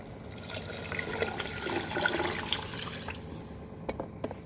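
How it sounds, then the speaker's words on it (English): Water splashes and pours into a pressure cooker for green moong dal khichdi for a few seconds, a rushing liquid sound that tapers off into a few drips at the end. "So now we'll add our water to this"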